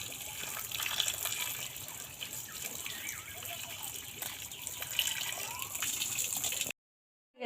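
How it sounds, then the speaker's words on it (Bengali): Vegetables are rinsed under running water while cooking fish, giving a soft, continuous trickle and splash with faint drips, close and quiet, that stops abruptly near the end. "আমি এই সবজিগুলো ভালো করে ধুয়ে নেব।"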